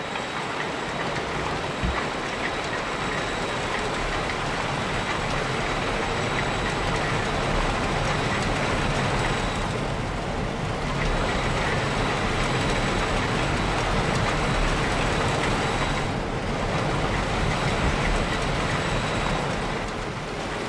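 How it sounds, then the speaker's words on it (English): In the video game Planet Coaster, a passing train gives a steady broadband rumble and rush lasting about twenty seconds, dense and continuous with slight swells and no voices. "Oh, there's a train!"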